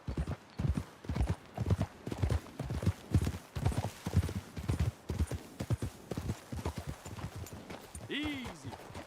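Rhythmic clip-clop of horse hooves at a walk in the video game Red Dead Redemption 2, fairly close, ending with a horse's whinny.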